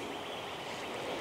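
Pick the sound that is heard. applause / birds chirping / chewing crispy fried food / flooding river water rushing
flooding river water rushing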